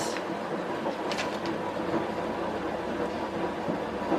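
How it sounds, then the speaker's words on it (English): A household washing machine runs nearby with a steady, even rumbling drone and a few faint clicks. No voices are heard over it. "Apologies if you can hear the washing machine."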